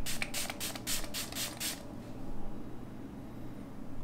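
Wet n Wild face spray from the PEANUTS collection misted onto half of a face: a quick run of about six short hissing spritzes in the first two seconds, close and clear, followed by quiet room tone.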